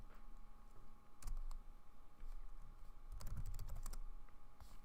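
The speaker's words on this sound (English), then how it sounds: "Told you guys would be typing your password a lot." A password is typed on a computer keyboard, a quiet run of quick, uneven key clicks under steady background hum.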